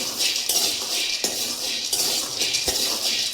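Peanuts roasting in a pan while being stirred for a chutney, a spoon scraping and clinking against the metal in a steady, close rhythm with soft sizzling underneath.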